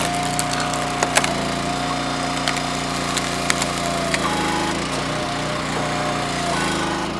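Oak firewood being split by a powered log splitter, with a steady mechanical engine drone running throughout and several sharp cracks and splintering snaps of the wood.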